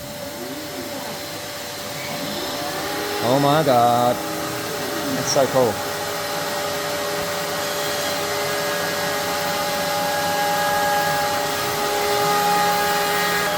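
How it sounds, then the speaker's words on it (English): A vacuum cleaner serves as dust extraction for a Trend Yeti CNC router cutting standard MDF, giving a steady, loud whirring drone throughout. Brief excited voices rise above it near the start. "Turns on the Hoover."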